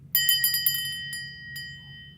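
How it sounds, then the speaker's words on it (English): A small bell, used in a witchy craft blessing over a dream pillow, rings in a quick burst of bright strikes and then a few sparser taps that fade into a short ringing tail, close and clear. "as this bell does reach my ear, I declare this bag is clear"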